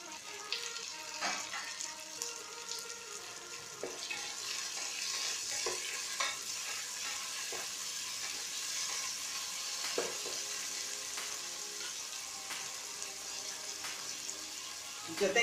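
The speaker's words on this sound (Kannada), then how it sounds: "ಈಗ ಟೊಮೆಟೊ ಹಾಕೋತಾ ಇದ್ದೀನಿ." Chopped tomato frying with cooked onions in a pan for fenugreek-leaf pulao, a steady close sizzle broken by scraping stirs of a spoon against the pan, with a little faint speech.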